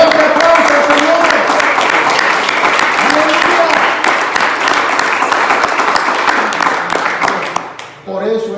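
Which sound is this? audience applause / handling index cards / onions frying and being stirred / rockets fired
audience applause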